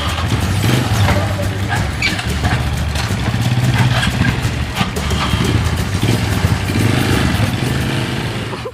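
A borrowed motorcycle engine runs behind a school in an Indonesian drama film. It gives a loud, steady, continuous rumble that is heard alone.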